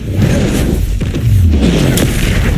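A Bombarda spell explodes in Hogwarts Legacy, loud rumbling booms with crashing debris and whooshes piling up over a couple of seconds.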